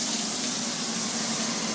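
Water pours in a steady, continuous stream, close by, with a hollow ringing tone as it fills a vessel.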